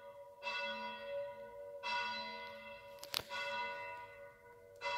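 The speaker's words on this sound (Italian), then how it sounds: "se sentite di sottofondo uno scampanello tipo Don, Don, sto davanti a un campanile, quindi scusate." Church bells ring from a nearby bell tower, with three strong strikes spaced about a second and a half apart, each leaving a long ringing decay, and a brief sharp knock in between.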